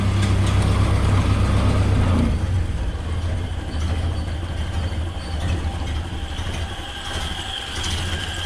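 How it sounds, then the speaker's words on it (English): Ford Model A engine from a barn find idling after being restarted, a steady low mechanical rumble that is loud at first and then settles into a quieter, even idle, with no talking. "Let's see if it'll idle down for us."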